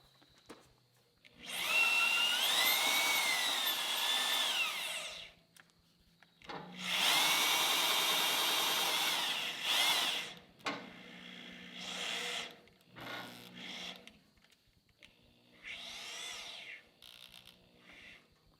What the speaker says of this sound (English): you were smart or lazy by running this with a drill